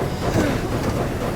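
A train rolls past in the Tintin Reporter: Cigars of the Pharaoh video game, giving a steady, close rumble with faint clattering wheels and no voices over it.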